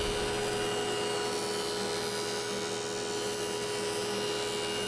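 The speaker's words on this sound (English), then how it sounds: "Take one side through a jointer, then take an edge through the jointer," A jointer mills lumber flat, a steady, high-pitched cutterhead whine with a constant droning motor, loud and unbroken throughout with no voices.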